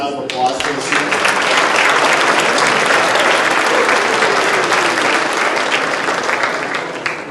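A banquet audience claps for a group of students, a full, steady round of applause that rises quickly and holds for several seconds before easing off, with a voice at the very start.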